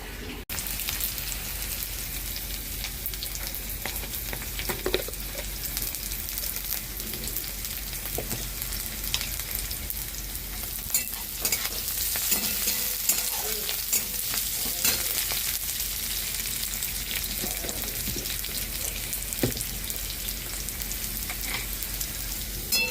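Chicken coated in salt and turmeric fries in mustard oil, a loud, continuous crackling sizzle close up, like rain on a surface, with occasional faint stirring and no talk.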